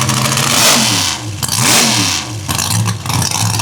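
A drag race car engine, loud and close, revs in repeated surges that climb and fall back, with several sharp blips over a throbbing idle.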